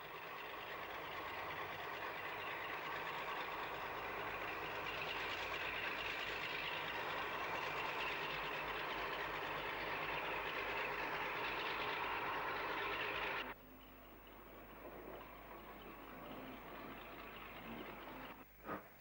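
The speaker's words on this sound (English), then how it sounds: "2 North British diesel hydraulic locomotives begin their move to take over the train" Two North British diesel hydraulic locomotives move at Bristol Temple Meads, a loud, steady engine drone with broad rumble that holds for about thirteen seconds, then drops abruptly to a quieter idling hum.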